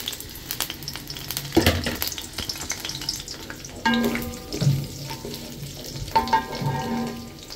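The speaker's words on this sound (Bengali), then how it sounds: "তেল দিয়ে এটাতে আলুগুলা দিয়ে দিব। বিরিয়ানির আলু তো মানে মোটামুটি ভাজা ভাজা হলেই হবে।" Potatoes for biryani fry in a little oil in a pan, a steady sizzle with stirring scrapes running alone throughout.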